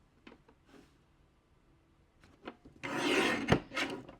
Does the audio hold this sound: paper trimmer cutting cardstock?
yes